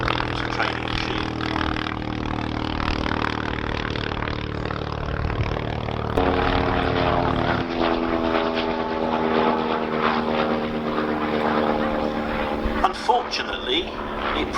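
Vintage Avro C3 aerobatic training aircraft flying at an airshow, its propeller engine droning steadily at moderate distance, the pitch shifting midway as it passes, while a commentator talks over it.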